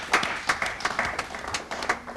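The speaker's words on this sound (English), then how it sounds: "Let's have a warm round of applause for them." A studio audience at a televised science quiz show claps for a school team, a dense patter of hands over about two seconds with some uneven bursts.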